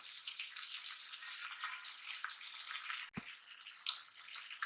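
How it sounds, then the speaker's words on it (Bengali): Small chapila fish frying in a pan with flat beans, a steady broadband sizzle and crackle running continuously near and fairly loud, with one brief low thump partway through. "মাছটা একটু ভিজা ভিজা করে ভেজে নেব"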